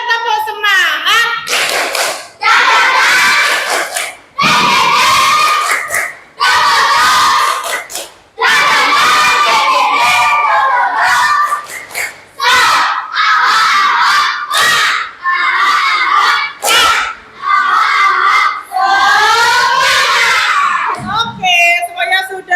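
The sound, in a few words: children doing a spirit clap cheer in class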